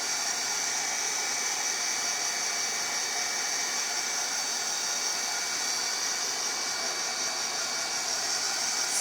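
A hair dryer blows steadily on freshly painted dark items, a continuous airy whir at even loudness from start to finish with no talking.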